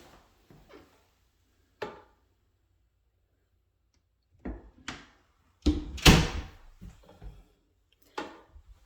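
A linen closet door in a house bathroom opens and closes with several distinct wooden knocks, thuds and a louder bang, separated by quiet gaps, close to the listener.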